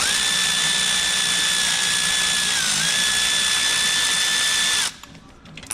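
A power drill whines steadily and loudly, close up, as it backs out screws on a Mercedes A250 during air conditioning repair. The pitch dips briefly partway through, then the drill stops abruptly and leaves near silence.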